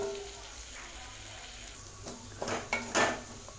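Potatoes frying in a pan and being stirred, a few scraping and clinking strokes of a utensil against the pan near the end over a low background hiss.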